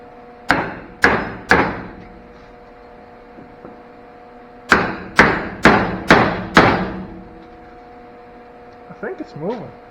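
Repeated hammer blows on a CV axle of an 88-99 Chevy truck, two close bursts of three sharp metallic strikes each, separated by a pause, with people speaking briefly near the end.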